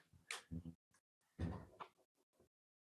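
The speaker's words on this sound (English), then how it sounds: "You can close the door." A door being closed indoors in a quiet home, with a few soft knocks and thuds from the door and latch spread over a few seconds, near and faint.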